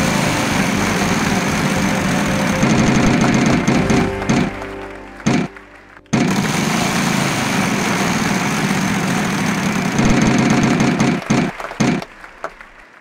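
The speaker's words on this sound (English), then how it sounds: "give the wheel a final spin" A prize wheel spins in a Wheel of Fortune game on the Wii U, a long steady whirring rattle that slows with clicking ticks and brief stops, loud and close with no talking.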